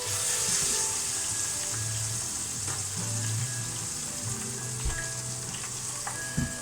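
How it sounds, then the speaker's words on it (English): Thai-style chicken pieces frying in hot oil, a steady close sizzle and crackle filling the whole stretch with a few brief clinks and stirring bumps near the end. "See the way it's frying, right?"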